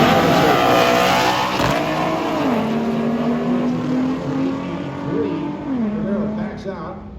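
A V6 car and a V8 car launch in a drag race, with loud, sustained engine roar and rising then falling revs as gears shift, the din filling the whole stretch, accompanied by crowd or commentary noise.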